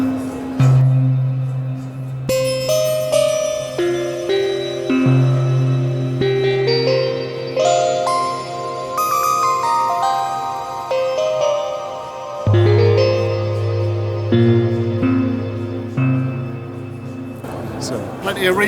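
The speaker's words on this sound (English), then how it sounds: "Plenty of reverb there." A Waldorf Quantum synthesizer plays a shifting patch drenched in heavy reverb, sustained tones and layered notes stepping through changing pitches with long echoing tails, loud and continuous for the whole passage.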